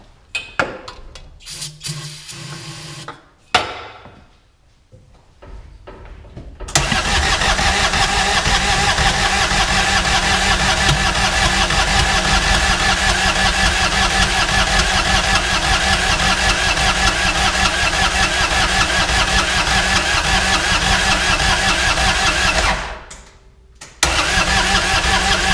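A 2011 Kawasaki Mule 4010 diesel with its exhaust disconnected, cranking in a few short uneven bursts, then catching and running loud and steady with a harsh, raw clatter for many seconds before briefly cutting out.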